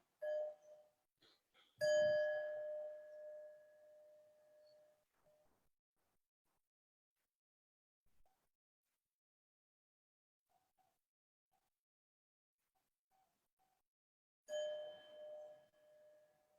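A meditation bell is struck twice, the first strike ringing out with a long clear decaying tone followed by near silence, then a second strike rings near the end, preceded by a few soft taps.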